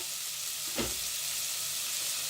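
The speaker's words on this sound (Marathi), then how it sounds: "मस्त फोडणी दिल्यावर आपण ह्याच्यात काजू टाकून घेतलेले आहे" Fresh cashews fry in a spiced tempering, a soft continuous hiss of sizzling oil with one brief stirring knock near the start.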